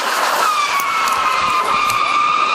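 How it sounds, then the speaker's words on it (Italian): A car brakes hard on wet asphalt and gravel during a safe-driving training course, giving a sustained tyre screech with a steady whine above continuous engine and road noise across the whole stretch. "Gli istruttori hanno poi mostrato ai ragazzi come frenare in caso di asfalto bagnato e di ghiaino"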